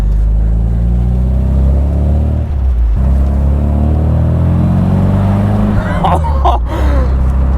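An MGB Roadster sports car engine drones and rises in pitch while driving at around 30 mph, a loud close rumble that climbs through gears, with people speaking briefly over it near the end.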